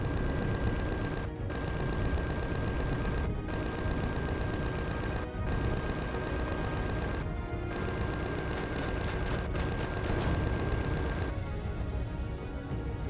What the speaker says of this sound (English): there are sentry guns everywhere, it would seem